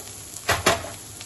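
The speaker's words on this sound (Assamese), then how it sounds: "এতিয়া গাজ টেঙাখিনি ভাজি হৈ গৈছে" Sour bamboo shoot frying in a pan makes a soft steady sizzle, broken by two brief louder scrapes or clinks of a utensil against the pan near the middle.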